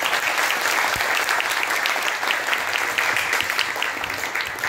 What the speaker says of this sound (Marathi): त्यांच्यासाठी परत एकदा जोरात टाळ्या वाजवतो.